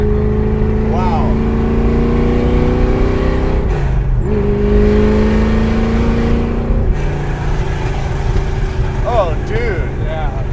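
A custom 1968 Shelby Mustang GT500 restomod revs loudly and up close with its exhaust valves open, the engine climbing and falling in several blips over a sustained rumble. People talk and react over the engine.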